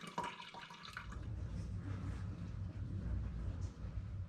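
Wine finings pour into a batch of ginger-flavoured hard cider with a soft, steady splashing trickle close by, quiet and continuous, and no voices are heard.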